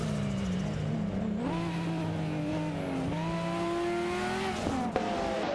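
A Porsche 911 930 Turbo 3.3 and a Ferrari F355 Berlinetta F1 battle in a racing game, their engines droning loud and close with rising and falling revs, gear changes and a brief tire squeal.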